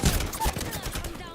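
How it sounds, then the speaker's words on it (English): In the video game New World, a quick burst of several close gunshots cracks out in rapid succession over a short moment, with faint background noise. "Getting shot at."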